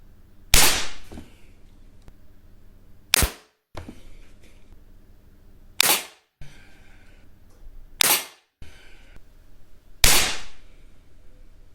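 Five sharp air pistol shots from a Beeman P17 and a Zasdar LP400 at a 10 m range, each a crisp spring-piston crack followed by a short metallic ring, spaced roughly two to three seconds apart with quiet between.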